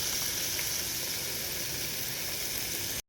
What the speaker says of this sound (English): I'm going to put some oil in a pan and start sauteing these with just a little bit of salt and pepper